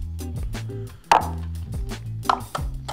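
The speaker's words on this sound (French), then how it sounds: "pour casser les œufs, vous allez les casser sur le côté, dans un petit récipient" Eggs are cracked against the side of a small bowl while making madeleines: two sharp, close taps about a second apart over a steady tonal background.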